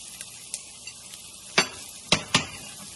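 Food stirred in a pan with sizzling butter, a steady close hiss broken by a few sharp scrapes and clinks of a utensil against the pan.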